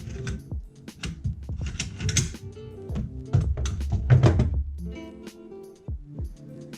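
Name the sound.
removing the bolt from a Matrix GBB M4 CQBR airsoft rifle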